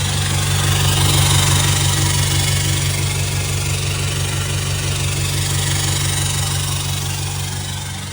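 A diesel Isuzu 4JJ3 engine idles through a 4-inch stainless steel DPF-back diff dump exhaust fed by a 3-inch turbo-back system, giving a steady, loud, deep rumble with continuous low drone and no talking.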